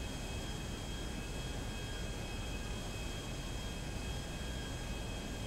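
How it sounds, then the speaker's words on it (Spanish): Police helicopter approaching in GTA V Online, a constant low engine drone and rotor rumble holding at a steady, moderate level throughout without speech. "¡Ahí viene el helicóptero!"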